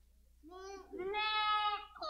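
A young lamb, held by a child at a church Easter service, gives two close, clear bleats, the second longer and louder, in an otherwise quiet room.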